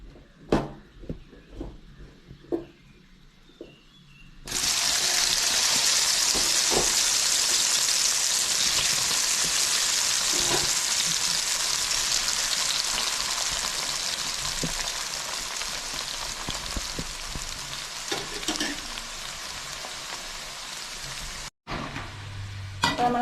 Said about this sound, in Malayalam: ഇനി നമുക്ക് അതിൽ മസാല ഇട്ട് കറക്കാൻ വറുത്തെടുക്കാം